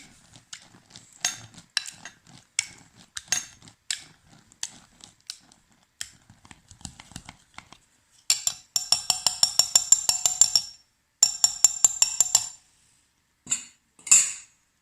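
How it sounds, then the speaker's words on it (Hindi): A spoon mixing baby food in a bowl. Irregular scraping taps give way to quicker, louder runs of clinking strokes against the bowl, and the mixing stops and starts near the end. "अब आपने इसको फिर से अच्छी तरह से मिक्स कर लेना है।"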